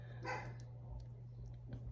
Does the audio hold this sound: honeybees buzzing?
no